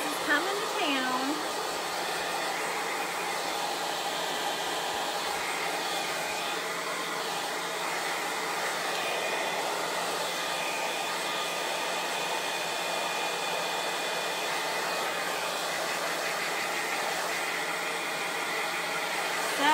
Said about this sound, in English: I'm going to dry it real quick while I get my other stencil ready.